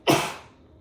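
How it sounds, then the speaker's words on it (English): A single sharp sneeze bursts out close by, then fades quickly into quiet breath. "I'm going to sneeze."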